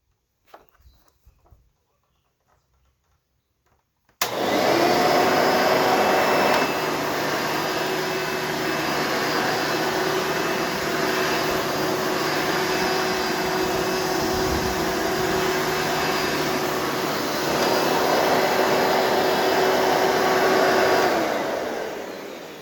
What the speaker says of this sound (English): That is your Hoover Elite 350.